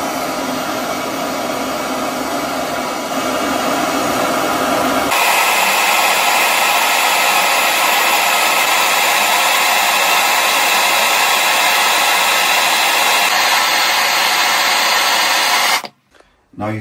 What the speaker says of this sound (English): with a really wide burner. And I think that's gonna do the job of annealing that piece of copper pipe